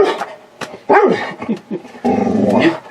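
A dog makes short growly vocal bursts and yips nearby, a series of rough, uneven noises rather than steady barking.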